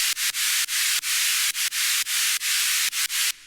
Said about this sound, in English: So we can add a white noise layer